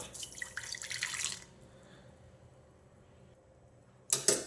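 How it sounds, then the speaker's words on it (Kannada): Hot water poured onto two spoons of sugar to make a syrup, a steady close splashing pour for about a second and a half, then near silence before a brief clatter at the end. "ದೆನ್ ನಾನು ಆ್ಯಡ್ ಮಾಡ್ತಾಯಿದ್ದೀನಿ ಹಾಟ್ ವಾಟರ್."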